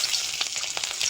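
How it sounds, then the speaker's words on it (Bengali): Dried red chillies tempering in hot oil give a steady, bright sizzle with small crackling pops, close and continuous for a brief moment, with no talking. "তেলের মধ্যে শুকনো লঙ্কা ফোড়ন দিয়ে দেবো"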